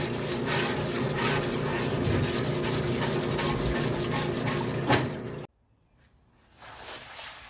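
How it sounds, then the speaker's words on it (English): Someone scrubs the back of a Mercedes 300D transmission pan in steady, close, rasping strokes for about five seconds, then stops abruptly into near silence before faint noise returns. "we'll go ahead and clean the back of the pan while we're at it."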